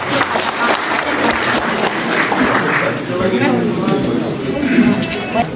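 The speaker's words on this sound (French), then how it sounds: "Est-ce qu'on va acclamer pour votre sérénité?" A congregation at a vigil in Brussels bursts into loud, sustained applause and cheering, dense and continuous throughout, with voices calling out beneath the clapping.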